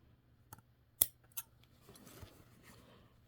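Scissors snip through fabric for a slouchy hobo bag, giving a few sharp, separate cuts with the loudest in the middle, followed by soft rustling handling noise.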